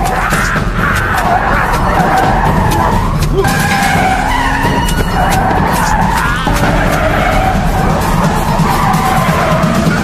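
A car skids off the road and plunges toward a lakeshore during a fight inside it, sustained loud tire screeching and engine roar with crashing noise throughout, some shouting mixed in.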